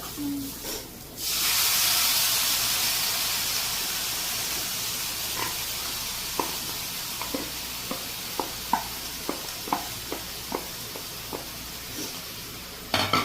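Chopped raw plantain drops into hot ghee in a pan, raising a loud steady sizzle that hisses on without a break, with a series of light scraping clicks from stirring sounding later.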